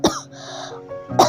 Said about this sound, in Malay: sorry aku batuk